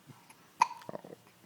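A baby's single soft hiccup, a brief quiet catch followed by faint small breathy sounds, close and isolated.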